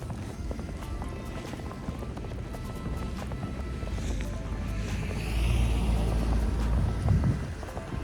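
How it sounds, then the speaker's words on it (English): A car creeps slowly along a snow-covered Toronto street during a snowstorm, its low rumble building and nearing toward the end amid steady wind buffeting the microphone. "look how slow that car is driving"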